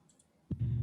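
A single computer mouse click during an online webinar, sharp and close, followed by a low steady hum.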